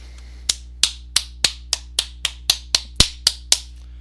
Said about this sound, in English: why am I giving a round of applause?